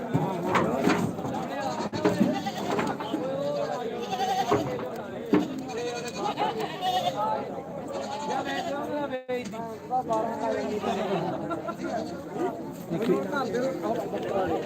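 Two castrated bucks bleat repeatedly and loudly over busy human chatter and crowd noise, with a goat call nearly every second.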